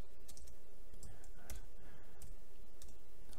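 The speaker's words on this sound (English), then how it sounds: "So now we can start typing in something we want." Rapid clicking taps on a computer keyboard pattered quickly under a constant background hum, fairly close and steady throughout.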